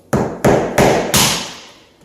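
A metal scraper is hammered under peel-and-stick floor tile. Four sharp, loud strikes land about a third of a second apart, each ringing briefly before the next one, and the last one fades out slowly.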